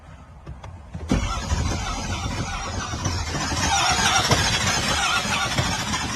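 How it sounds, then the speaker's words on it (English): Almost-new GM pickup truck with only 9,000 miles cranking and failing to start: after a click, a loud continuous whirring, squealing crank runs for several seconds without the engine catching. "Try to crank it one more time."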